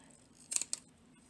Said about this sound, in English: I trim around with pinking shears and clip the corners